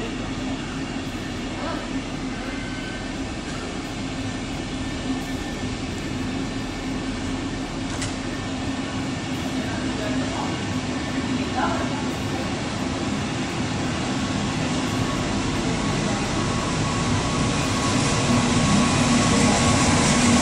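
Regional train with a Karlsruhe-type cab car rolling steadily on rails in Baden-Württemberg, heading onto a siding near Heilbronn; a continuous, fairly loud rail rumble with a steady hum that builds slightly toward the end, with no talk.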